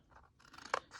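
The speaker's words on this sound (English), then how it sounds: "I'm gonna trim back some of this." Scissors trimming a paper craft folder for a journal purse: a few quick crisp snips close up, the last one the sharpest, with no talking.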